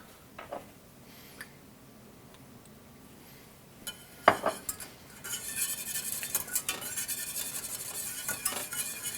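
A whisk scrapes and clinks against a pot of spicy beer cheese sauce, starting with sparse taps and then turning into rapid, steady metallic stirring that grows louder and busier.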